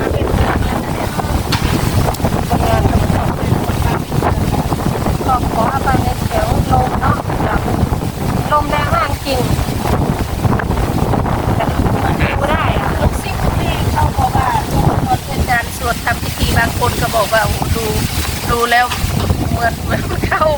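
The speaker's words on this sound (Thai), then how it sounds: "ลมแรงมากเลย" Strong wind buffets the microphone outdoors with a constant loud rumbling roar throughout, and faint voices are buried underneath.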